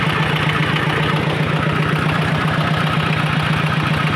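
A homemade motor-tractor built from a walk-behind tractor, with a water-cooled engine, idles steadily and loudly up close, a constant low throbbing chug with an even beat throughout.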